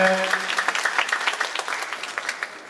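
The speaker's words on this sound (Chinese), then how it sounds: "热烈的掌声" Audience applause fills a hall at the 2014 Taiwan Super Cosplay Celebration WCS qualifier, a steady wash of many hands clapping for a contestant, with an announcer's voice briefly heard at the start.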